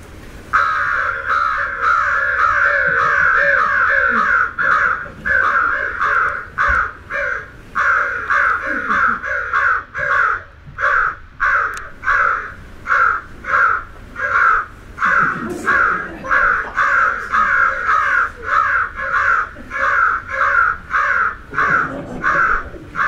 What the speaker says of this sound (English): The crows reacted fairly violently, immediately, then settled down into a mid-level alert call